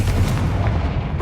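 A Confringo fire spell explosion in the Hogwarts Legacy video game, a dense low booming rumble that sustains loudly throughout, with no clear separate blasts.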